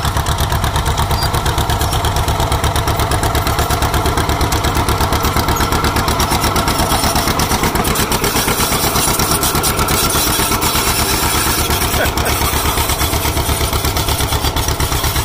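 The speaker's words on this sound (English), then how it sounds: "Five bottom on that Alice Chalmers HD5 diesel" A diesel engine in an Allis-Chalmers HD5 crawler runs at a steady idle with a fast, even mechanical clatter and throb, close and loud, with a broadband outdoor wash behind it and no voices.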